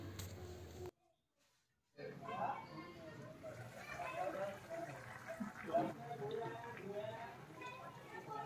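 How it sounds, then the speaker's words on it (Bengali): Water pours into a pot of ghugni, a yellow-pea curry, in a kitchen: a soft, steady splash that pauses briefly and then continues, with faint voices in the background. "পরিমাণ মতো জল দিয়ে দেব।"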